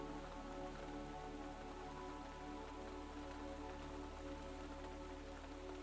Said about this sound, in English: The rain had settled into a steady rhythm now.